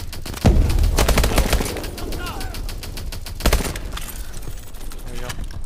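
Gunfire in the Call of Duty Advanced Warfare video game comes as rapid bursts of automatic shots, a heavy opening blast and a second loud burst later, with a voice talking over the action.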